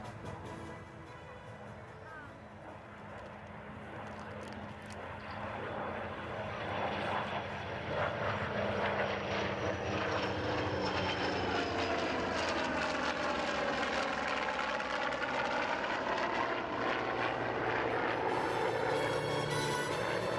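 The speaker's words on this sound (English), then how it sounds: "Listen to the sound. Round engines and jets all together." Radial piston engines and jet aircraft roaring together at a 2013 airshow, a steady loud drone that swells and holds with a sweeping pitch shift as planes pass, continuous throughout.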